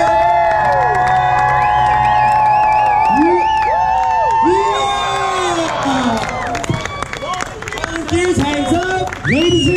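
A crowd on an island tour in Honolulu cheers, whoops and shouts after being urged to make some noise, with excited voices rising and falling over scattered clapping.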